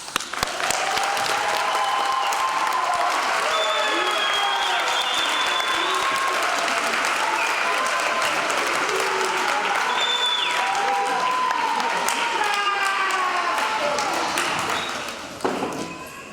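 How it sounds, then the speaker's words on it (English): Sustained audience applause fills a high school graduation ceremony hall, a dense steady wash of many hands clapping at even volume before fading out near the end. "Now we can applaud."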